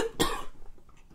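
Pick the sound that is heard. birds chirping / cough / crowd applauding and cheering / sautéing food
cough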